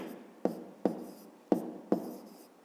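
A pen or pencil writes an answer by hand on paper for a fifth-grade math exercise, with four distinct scratchy strokes at regular intervals, close and quiet.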